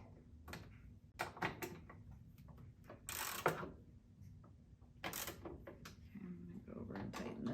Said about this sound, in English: So I'm going to tighten my bolts.